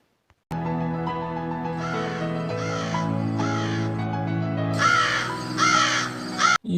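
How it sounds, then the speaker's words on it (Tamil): A crow caws loudly and close by outside a village home in India, giving a long run of repeated harsh calls that rise at the end. "என்ன காக்கா கத்துது?"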